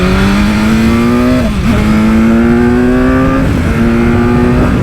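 A BMW S1000R super naked motorcycle engine revs loud and close, its tone climbing steadily, dipping briefly, then climbing again with no voices over it.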